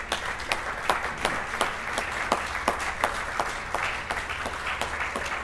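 Audience applause at an anniversary celebration dinner in Peoria honoring a pastoral couple, with steady clapping punctuated by sharper individual claps and no talking.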